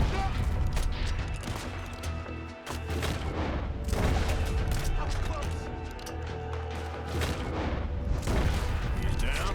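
Rifle gunfire rattles through a video game shootout: dense, loud volleys of shots and heavy booms fill the stretch almost continuously, with only a brief dip in intensity.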